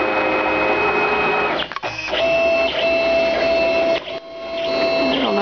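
A CNC machine moves a router bit with the router motor switched off, producing a tonal stepper-motor whine and mechanical hum that stops briefly twice before resuming.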